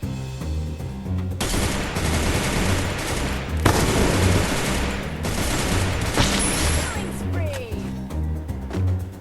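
Video game gunfire from the Thai shooter Chrono fills the scene with sustained rapid bursts, loud, near, and almost continuous, with short gaps between volleys under background game music.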